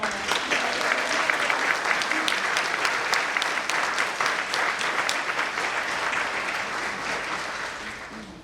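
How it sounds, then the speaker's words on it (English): Sustained audience applause at a December nursing pinning ceremony: a dense, even round of clapping from a large crowd that holds steady for several seconds, then slowly eases off toward the end. "let's give Taylor and Brittany a round of applause."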